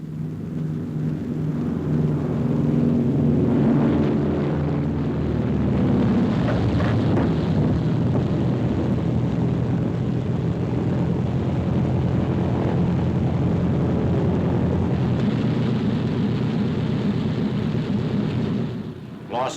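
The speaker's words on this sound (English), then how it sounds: "This ship is trailing smoke as the pilot covers the last yards to the carrier." A smoking military airplane comes in to land on an aircraft carrier during a wartime naval engagement, a loud, continuous roar of engine and wind rumbling steadily throughout, with no voices heard.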